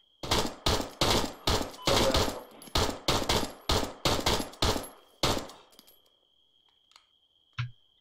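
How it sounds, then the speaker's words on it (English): Rapid bursts of airsoft covering fire at a skirmish game, about a dozen loud, close volleys in quick succession over five seconds, then quiet with a faint distant tone and one brief click. "can you give me some covering fire, please?"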